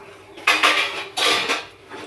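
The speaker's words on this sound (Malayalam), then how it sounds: "ഏലക്ക ആഡ് ചെയ്തിട്ട് നന്നായിട്ട് ഇളക്കുക. തിളയ്ക്കുന്നവരെ ഇളക്കുക." A spoon scrapes and clinks around a pot of banana tharikanji just after cardamom goes in, two bursts of stirring noise close and fairly loud with a short pause between them.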